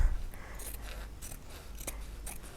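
Scissors snipping through quilt fabric at a folded edge, a few crisp close cuts spaced irregularly across a quiet background.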